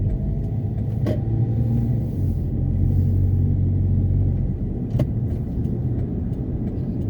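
A car driving slowly while searching for a parking spot near a market, its engine giving a steady low rumble heard from inside the cabin, with a couple of brief clicks and no talking.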